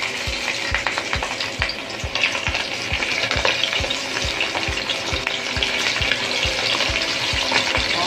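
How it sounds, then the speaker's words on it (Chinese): Flour-coated fish fries in a hot pan, spitting with a dense, close sizzle, while a spatula or utensil taps and scrapes the pan in a quick, regular rhythm and nobody speaks. "我们就放在这个锅里面煎啊"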